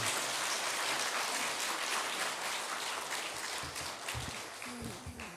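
A church congregation applauds during a Sunday revival service to welcome a pastor. The clapping is dense, rain-like and continuous, heard somewhat faint and distant in a large hall, tapering slightly at the end.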